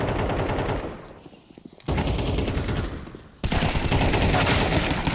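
Rapid automatic gunfire in an esports shooter match, loud sustained bursts that drop away briefly and then return even heavier, close and continuous with no voices.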